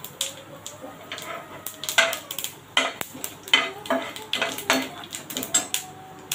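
Cumin seeds dropped into hot oil where mustard seeds are crackling in a pan, producing quick, irregular clinks, pops and spatters. The crackle is close and moderately quiet, with no talking over it.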